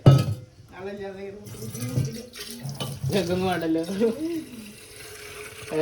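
Tap water runs steadily into a kitchen sink while someone talks over it throughout.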